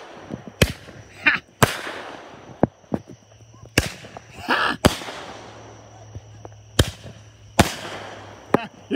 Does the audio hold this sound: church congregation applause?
no